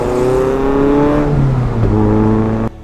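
A Mazda NC Miata with an OBX midpipe, high-flow cat, Goodwin Racing 1.8 header and integral Kobe muffler revs loudly and up close, its exhaust note rising and falling before cutting off abruptly.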